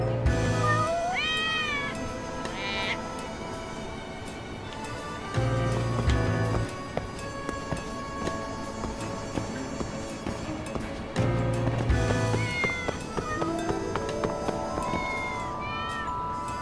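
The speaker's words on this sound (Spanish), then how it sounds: "Está todo lleno de gatos." Cats meow repeatedly in the video game Lost Judgment, with several rising, drawn-out calls over a continuous, loud bed of game music and ambience.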